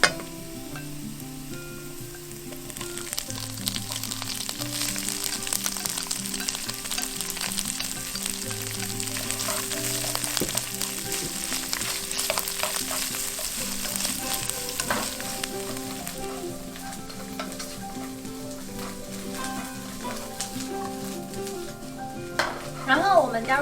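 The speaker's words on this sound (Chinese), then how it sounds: "再放入酸菜丝爆炒" Pickled mustard green strips stir-fried hard in a wok with sesame oil and ginger shreds, giving a steady loud sizzle with scraping stir strokes throughout and a few sharper clatters near the end.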